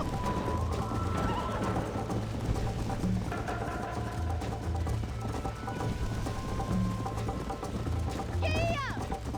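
A horse gallops with steady rhythmic hoofbeats in Red Dead Redemption, the clip-clop continuing under voices talking throughout, with a short whinny near the end.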